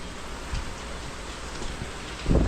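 Steady rain patters on a farmhouse roof close by, a constant hiss with a few heavier drips and thuds.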